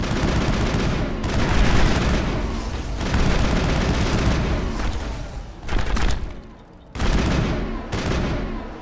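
Loud, sustained bursts of automatic gunfire and booming shots in the Mass Effect video game, dense and continuous with brief gaps between volleys.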